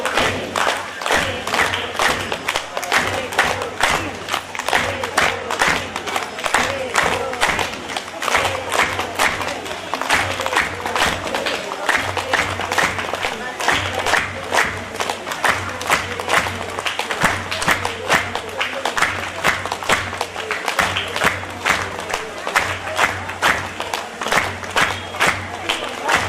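A crowd at a devotional gathering claps together in a sustained round of applause, dense and rhythmic for nearly half a minute, with faint voices and cheers mixed in.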